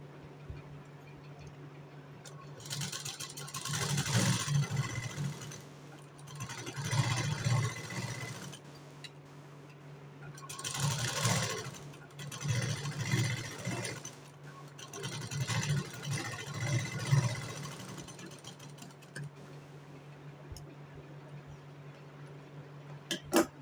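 A sewing machine stitches the side seams of a blouse in several separate bursts of close whirring, each a few seconds long, separated by quieter pauses with a low steady hum.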